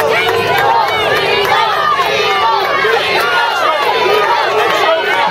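Spectators cheer, shout and whoop continuously at a professional hamburger eating championship at the 2016 Taste of Hamburg-er Festival, a loud dense crowd roar with overlapping voices throughout.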